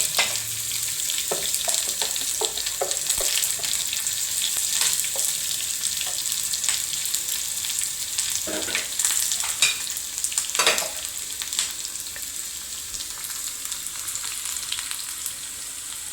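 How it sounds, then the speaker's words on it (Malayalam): A steady sizzle of onions frying in oil with mustard seeds runs throughout, with scraping clinks of a spoon stirring the pan up close. "ഉള്ളി മുരിഞ്ഞ് തുടങ്ങിയിട്ടുണ്ട്."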